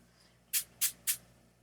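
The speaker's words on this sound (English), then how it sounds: "And I just basically spray the background." Three quick, crisp hissing bursts of Sea Mint Green shimmer spray mist onto a black journal background, evenly spaced and close by, with quiet between them.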